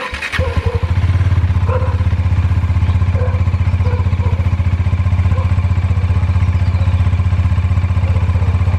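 A Bajaj Dominar 400 motorcycle, on a touring ride, starts up close by and settles into a steady, loud, throbbing idle that continues for several seconds without interruption.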